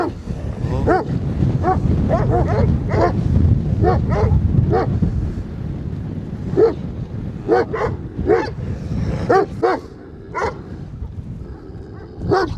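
A pack of aggressive free-roaming dogs barks repeatedly in sharp, irregular bursts, some barks overlapping, over a low rumbling outdoor background, with louder volleys near the start and scattered barks later.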